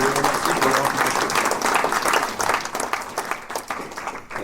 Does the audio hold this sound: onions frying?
no